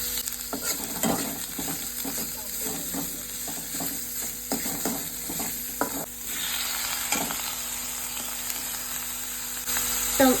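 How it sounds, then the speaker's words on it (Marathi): Onions fried in a pan for a chickpea masala curry, a steady close sizzle broken by repeated rhythmic scrapes of a spatula stirring, the hiss growing brighter toward the end. "कांदो घालून न्ही 1-2 मिनटांनी परतून घेतलो"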